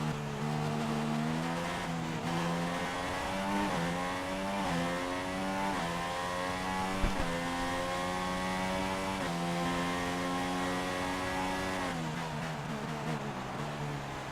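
A Formula 1 car engine in the F1 2016 racing game howls continuously, its high whine climbing and falling through repeated upshifts and downshifts, loud and steady with no talk over it.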